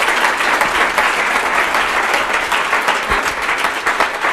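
A room full of people applauds steadily for a woman who has just spoken at a Kansas City 1 Million Cups startup pitch meeting, with dense, even clapping held at a constant level throughout.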